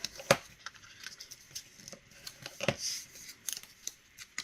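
Scored paper is folded for a handmade journal, heard as close, quiet crisp creases and rustles, with a couple of sharper snaps near the start and middle.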